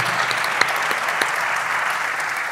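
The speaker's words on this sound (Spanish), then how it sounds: "vamos a darles un aplauso" Steady, dense applause from an audience at a festival event, continuous and fairly loud throughout with a few sharper individual claps standing out, no voices on top.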